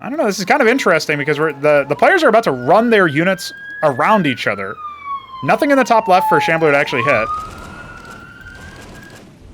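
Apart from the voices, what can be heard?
siren in the background, from the video game Cosmonarchy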